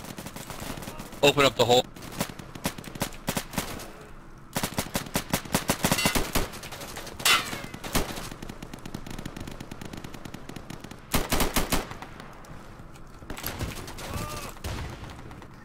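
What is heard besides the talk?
machine gun fire in the video game Insurgency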